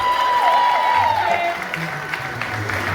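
An audience applauds at a choir event, a dense patter of clapping that carries on beneath a loud voice speaking over it, with some cheering mixed in.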